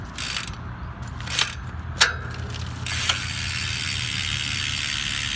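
Novatec D042 SB rear hub on a Gios FRX 2019 mountain bike, its freewheel ratchet buzzing in a rapid continuous click as the wheel spins, with a few sharper knocks early on, close and steady.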